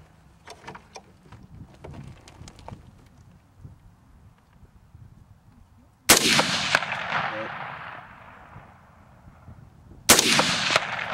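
Two loud 5.56x45mm rifle shots fired into a cinder block wall outdoors, spaced about four seconds apart, each a sharp crack with a long rolling echo, following quieter shuffling and faint clicks.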